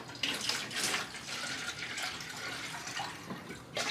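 Rainwater runs steadily from a tap into a container, a continuous close splashing flow with slight variations and no speech.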